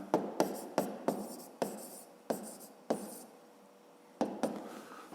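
Pen or marker writing out a fifth-grade math solution, a series of sharp separate strokes and taps in uneven rhythm with short pauses, close and fairly quiet.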